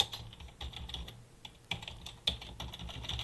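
Fingers tap on a computer keyboard in quick, uneven bursts of close, crisp keystrokes, with no talk over them.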